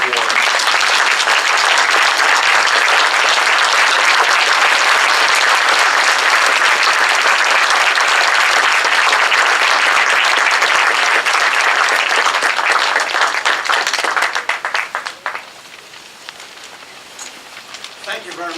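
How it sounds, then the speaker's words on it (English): A large crowd applauds Governor Jim Florio at an award event in Camden, a loud, sustained clatter of clapping that runs for about fourteen seconds before it thins out and fades to scattered claps. "Would you please stand and join me in congratulating Governor Jim Florio on the receipt of this most prestigious award"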